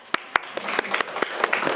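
Applause from a church teachers' seminar audience in Korea: a few sharp, isolated claps up close, then many more hands join in and it swells into steady, lively clapping.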